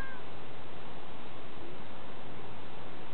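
A cat meows steadily against a dense, continuous background of noise, with no talking.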